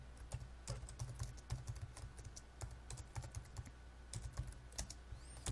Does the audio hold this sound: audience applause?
no